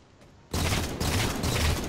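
Gunshots in a 1v1 shooter video game match, a sudden loud burst of dense rapid fire after a quiet moment, pulsing in a few heavy waves.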